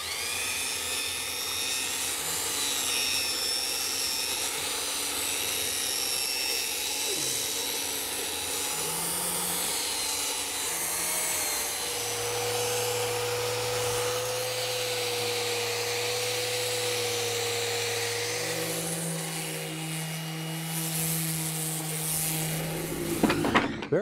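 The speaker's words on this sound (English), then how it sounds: "use a couple other sanders to profile the legs to perfection" Power sanders profiling the curved legs of a wooden console, a continuous high whine with shifting pitch as the tools move, steady and close throughout, a brief clatter at the very end.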